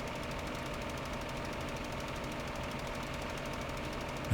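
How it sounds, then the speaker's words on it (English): A small Ursus tractor engine from Farming Simulator runs steadily with a constant, close mechanical drone and knocking rattle throughout, without pause. "It's a little tiny tractor."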